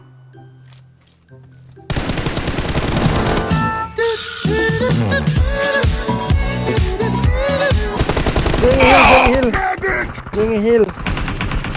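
Automatic gunfire from an online shooter match rattles through most of the stretch, loud and dense with overlapping bursts, while players chatter and call out to each other over it.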